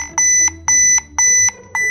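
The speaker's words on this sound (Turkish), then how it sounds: "Sende metal dedektörü var." Toy metal detector alarm from a Transformers toy scene, beeping in four loud, evenly spaced bursts of a bright electronic tone over faint background.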